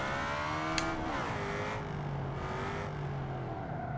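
A 4.4-litre V8 in an ETK car from BeamNG.drive holds a high, steady rev, its tone dipping slightly and then settling into a sustained, fairly quiet whine with no talk.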